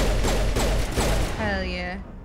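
Pistol fire in the Mass Effect video game, aimed at an enemy's shields: a few sharp shots in quick succession, close and loud, followed by a rising electronic whine as the shield flickers.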